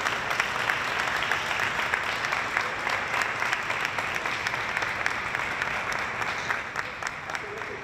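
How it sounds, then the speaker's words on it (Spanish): Steady applause from an audience at an Ecuadorian flag-raising event, honoring the organizer Diego; dense continuous clapping holds at an even level for the full length, with no voices standing out. "hay que aplaudirlo"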